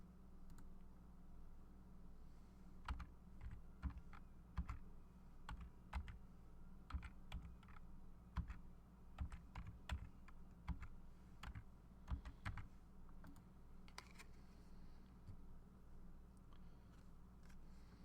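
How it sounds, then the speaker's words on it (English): Steady typing of codes on a computer keyboard for a Pokemon TCG Live pack opening stream, a long run of close, crisp key clicks in irregular bursts over a low background hum, with no voices. "one of the things actually does involve typing in all these codes"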